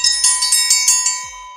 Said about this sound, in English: give me the dinner bell